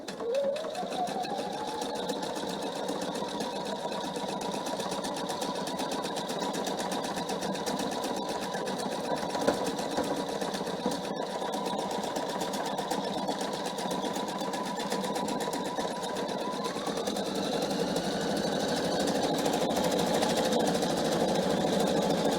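A PFA sewing machine runs steadily for the whole stretch, a continuous motor hum and needle whir at an even pace while a cushion cover is being sewn, with a slight rise in speed near the end.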